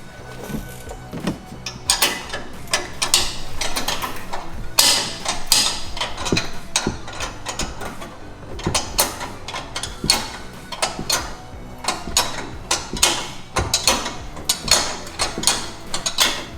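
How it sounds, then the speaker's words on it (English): A 17 millimeter wrench tightens the top nuts of Fox 2.5 coilovers on a lifted 2015 Ford F-150, with close metallic clicks and clanks in irregular bursts throughout and some hollow knocks. No talk. "you're going to want to take that 17 millimeter wrench. Make sure you go ahead and tighten these top nuts"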